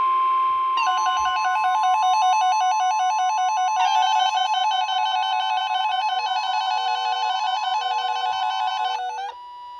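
A weather alert radio sounds its alarm, a loud warbling electronic tone alternating in a rapid, steady pattern for several seconds before cutting off abruptly.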